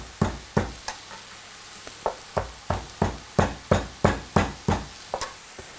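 A knife blade smashes a piece of peeled ginger on a cutting board, about a dozen sharp, evenly spaced thuds, close and distinct, with no talking.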